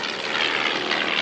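A propeller warbird flies past at an airshow at Wroughton Airfield, its engine a loud, continuous broadband roar that holds steady throughout the short stretch.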